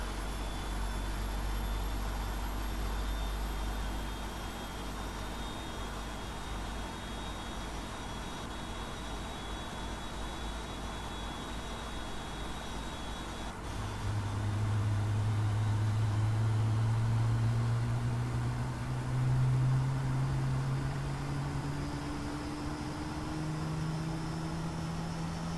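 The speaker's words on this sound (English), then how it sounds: "There we can see the engine spooling up." A steady jet engine hum in a Prepar3D flight simulator slowly rises in pitch as it spools up after ignition, a long continuous whine building over a constant noisy drone, with no talking.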